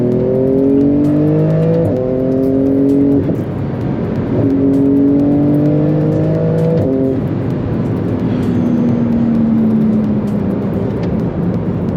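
A 2018 Porsche 911 GT2 RS engine revs hard at full throttle, its pitch climbing and dropping sharply with each gear shift, loud and close.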